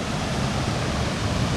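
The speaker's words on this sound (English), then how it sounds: "Nice waterfall area." A waterfall pours into a deep swimming hole on the Babel Towers hike, a brief, constant broadband rush of falling water heard up close with nothing else over it.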